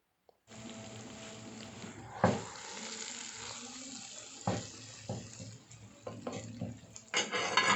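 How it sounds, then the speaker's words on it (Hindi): A spoon gently stirs fish curry in a pan, with soft scraping and clinking strokes over a steady sizzling, watery hiss, growing busier and louder toward the end. "चम्मच ज़्यादा नहीं चलाना, बस इस तरह से ही इसको मिक्स करना है"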